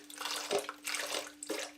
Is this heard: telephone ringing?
no